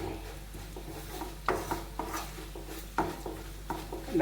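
Spice powders are sautéed in a pan as the base for pork ularthiyath, with a spoon scraping and knocking the pan in a regular rhythm over a faint low sizzle, close and unaccompanied by voices.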